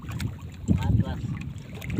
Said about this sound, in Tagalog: Doon sa isang bangka kami.